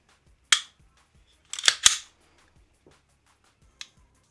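A Ruger 5.7 pistol trigger is dry-fired and reset, giving a few sharp, crisp mechanical clicks, one alone, a quick cluster of two or three, then a fainter one, close and isolated in near silence.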